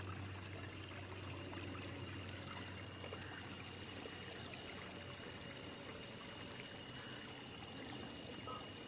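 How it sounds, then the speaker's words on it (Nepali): Water runs steadily through a drainage channel in a village, a continuous close trickling wash that stays even for the whole stretch with no voices over it. "यहाँ पानीको नाली।"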